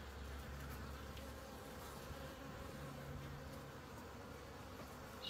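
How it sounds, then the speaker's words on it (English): Dense, steady buzzing of many honey bees from an opened beehive during a hive split, a continuous close insect hum with no talking. "So we've got quite a few bees down here."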